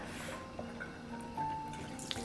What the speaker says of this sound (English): Takes a little longer for the water to get out at this stage because they're starting to like take up more space in the jar